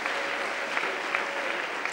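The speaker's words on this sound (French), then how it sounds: "J'aimerais qu'on l'acclame très fort." A church congregation applauds, a dense, even clatter of many hands clapping together, steady and fairly loud through the whole stretch, with a faint voice underneath.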